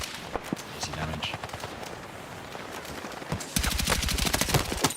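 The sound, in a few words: gunfire from a gun in the video game Battlefield 6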